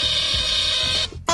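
A smoke detector sounds its test beep: one loud, steady, piercing electronic tone held for about a second before it cuts off.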